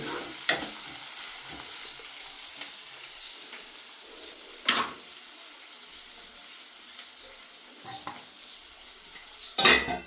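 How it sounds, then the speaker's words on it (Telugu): Chopped onions frying in a pan on a stovetop while mutton is being cooked: a quiet, steady sizzle with a few sharp spoon clinks and scrapes, the loudest clatter near the end. "ఈ ఆనియన్ బ్రౌనీ షేప్లో కలర్ వచ్చేదాకా మనము ఫ్రై చేస్తూనే ఉండాలి."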